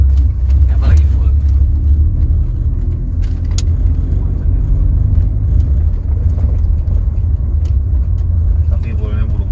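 Mercedes C180 W202 with manual gearbox pulling uphill under full load, a loud steady low engine drone and road rumble throughout, with people talking inside the cabin over it.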